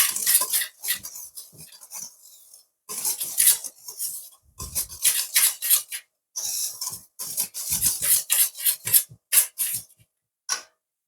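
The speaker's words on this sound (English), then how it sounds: "So just use your whisk to combine this together." A whisk scrapes and clatters steadily against the bowl while chocolate cake batter is mixed, loud and close, in rapid rhythmic bursts with a few short pauses.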